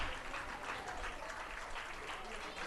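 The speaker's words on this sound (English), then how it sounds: "As the crowd shows their appreciation." A rugby crowd applauds at full time after a 2014 women's match between Quebec and British Columbia, a steady, dense patter of clapping with a faint murmur of voices.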